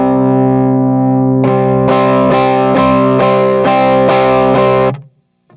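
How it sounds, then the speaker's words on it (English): A heavily distorted electric guitar rings out on an open power chord, then strikes about seven steady repeated chords before cutting off abruptly into silence. "So if I play an open power chord"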